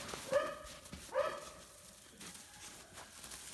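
A puppy barks while playing in snow outdoors, giving two short, fairly faint yips a second apart, with quieter rustling around them.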